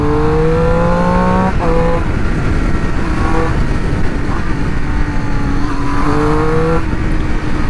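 A Triumph Street Triple motorcycle with stock exhaust revs up repeatedly with rising whines, then settles to a steady idle between bursts, loud and close over a rough background rumble.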